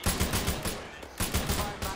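Automatic gunfire in the ArmA 3 military shooter game, several rapid bursts of shots in quick rhythmic volleys with a brief gap midway, loud and close.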